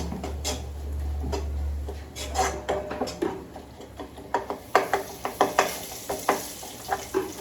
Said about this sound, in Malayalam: കുരുമുളക് പൊടിയും കൂടി ഇട്ടിട്ട് നമുക്ക് നന്നായിട്ടൊന്ന് മിക്സ് ചെയ്ത് കൊടുക്കാം